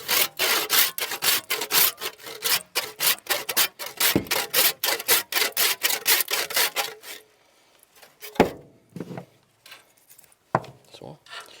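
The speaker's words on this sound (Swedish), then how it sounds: "så sågar vi av benen här." A hand saw rasps through a beaver's leg bones in quick, rhythmic back-and-forth strokes up close, then stops, leaving a few scattered knocks and handling sounds.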